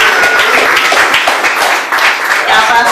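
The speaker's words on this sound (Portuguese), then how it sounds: "Pode aplaudir, fica na fé." A church congregation applauds steadily for a few seconds, a dense patter of many hands clapping with no break.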